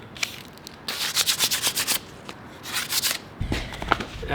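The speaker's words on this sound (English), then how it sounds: "I'm just lightly sanding it" Wooden kitchen tool being lightly sanded by hand with 320 grit sandpaper, a close, soft scratchy rubbing in repeated back-and-forth strokes, heard alone without speech.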